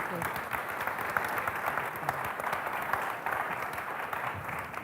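A conference audience at a Balkans policy forum applauds after a panel discussion: a continuous wash of many hands clapping, even and sustained at moderate loudness.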